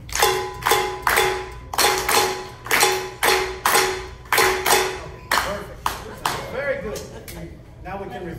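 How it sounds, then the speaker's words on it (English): A group of people clapping a clave rhythm together, repeated sharp hand claps in a patterned beat, fairly close and loud, with voices briefly heard near the end. "Okay, let's try to clap that."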